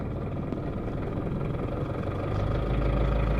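A 1970s diesel car idling at a low idle, a steady rough low rumble that grows louder and fuller partway through as the idle is raised, with no voices.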